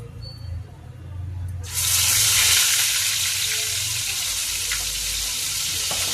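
Masala spices sizzling in a hot pan for an egg curry, a loud hiss that bursts in partway through and keeps crackling steadily, with some background kitchen noise.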